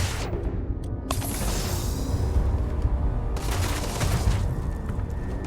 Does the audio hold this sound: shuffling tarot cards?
no